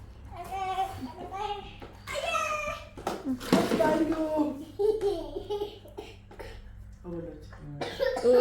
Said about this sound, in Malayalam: ചുമക്കുന്നുണ്ട്